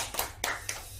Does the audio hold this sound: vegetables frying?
no